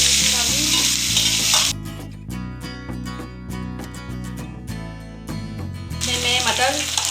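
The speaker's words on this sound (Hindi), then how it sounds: "तो हमारा जीरा भून जाएगा" Cumin seeds roasting in hot oil give off a loud, crackling sizzle at the start. A tuneful musical passage briefly takes over before the sizzling returns.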